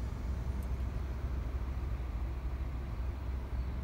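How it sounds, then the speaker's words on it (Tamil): City road traffic in Chennai, a steady broadband rumble of vehicles that stays loud and continuous throughout, with no distinct horns or voices standing out. "இப்போ இந்த டிராஃபிக்கை மட்டும் நான் அப்படியே காட்டுறேன்"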